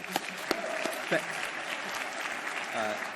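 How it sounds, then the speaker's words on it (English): An audience claps at an evening keynote, a short burst of applause with a few sharper individual claps, mixed with some talking in the room. "Can we have a big round of applause for Ms. Oteh?"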